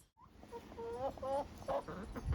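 Backyard hens cluck in a quick, chattering run of short calls, close and fairly loud against faint garden background.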